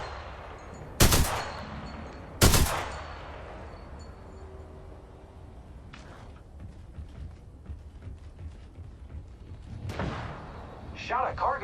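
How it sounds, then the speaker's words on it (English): Gunfire in the video game Apex Legends: two loud, sharp gunshots early on, then distant weapon reports and crackles through a quieter stretch, with a game voice talking over part of it. "Opening fire on the enemy."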